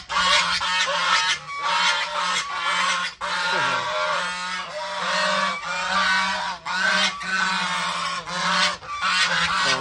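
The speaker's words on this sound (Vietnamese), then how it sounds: "ở đây là ngỗng với vịt xem đó, nó kêu kìa." A flock of farmyard geese and ducks honks and quacks continuously in a loud, overlapping clamor, close by, with no break in the calls.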